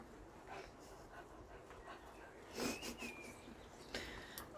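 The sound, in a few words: dog panting and whimpering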